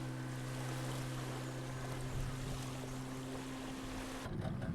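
Steady drone of a Seychelles fishing boat motor cruising over open sea, a low engine hum with water rush that holds constant before cutting off abruptly near the end.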